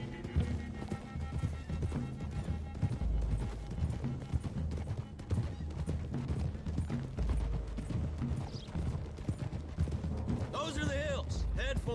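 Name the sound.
horses galloping, clip-clop, in Red Dead Redemption 2 video game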